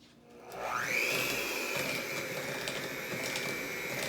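An electric stand mixer whirs up to speed and keeps running at a steady high pitch while mixing gluten-free vegan chocolate chip cookie dough, a constant motor drone close by.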